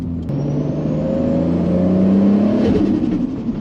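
A Toyota AE86 car engine drones steadily from inside the cabin while downshifting, its note rising smoothly with a loud continuous hum and slight roughness toward the end.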